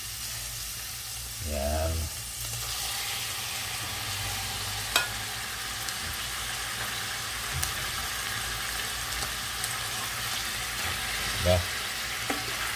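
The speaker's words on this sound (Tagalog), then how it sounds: "Dahil nagisa na natin ang sibuyas, at ito yung ano na, lagyan na natin yung ating hipon." Shrimp sizzle steadily in a pan of sautéed onion for ginisang hipon with ketchup, a continuous hot frying hiss with a few stirring knocks, while a voice briefly speaks over it.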